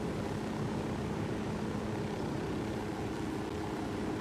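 Steady broadband engine drone of an airplane in the video game Ghost Recon Wildlands, a continuous loud hum holding level throughout with no talk over it.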